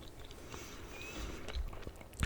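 Soft, close gum chewing in a whispered ASMR setting: faint wet smacks and clicks repeat irregularly against a low steady background hiss, growing slightly louder toward the end.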